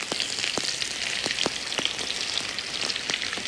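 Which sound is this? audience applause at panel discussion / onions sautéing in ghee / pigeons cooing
onions sautéing in ghee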